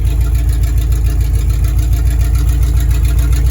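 Chevy K5/K10 truck engine running steadily in first gear off road, a loud, continuous low rumble with a constant idle-like throb throughout and no talking.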